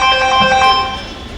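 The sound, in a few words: phone ringing in a stage play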